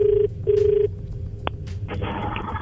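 Telephone ringing in two short, steady beeping bursts followed by a brief click, then a low line hum.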